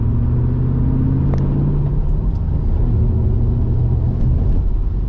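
A 2005-09 S197 Ford Mustang with a cylinder 3 misfire, driven on the road: its engine drones steadily with low rumble and a shifting tone as it pulls along, close and continuous, with no voices over it.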